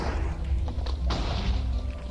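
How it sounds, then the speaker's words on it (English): A TNT cannon fires in Minecraft, giving a string of muffled thuds and thumps over a steady low rumble. "that's basically a TNT cannon I made"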